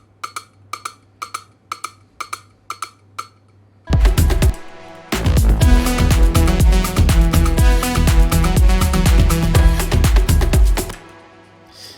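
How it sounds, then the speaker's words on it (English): Afro house percussion loop of claves and timbales: a sparse run of clicky taps first, then a dense, loud rhythmic groove of struck drum hits and tones that plays on steadily before cutting off. "claves, timbales"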